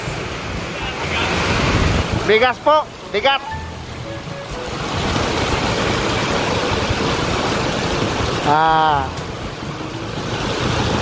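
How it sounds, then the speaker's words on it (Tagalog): Heavy rain pours steadily over a shelter at a motorcycle repair shop, a loud continuous wash broken only by brief speech and a short whistling squeal near the end. "naabutan po ako ng malakas na ulan dito"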